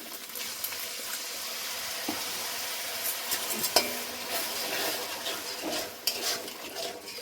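Spiced masala of Kashmiri chilli powder and cumin powder with a splash of water frying in a pan: a soft, close sizzle with repeated stirring scrapes and occasional louder clinks of a spoon, no talking.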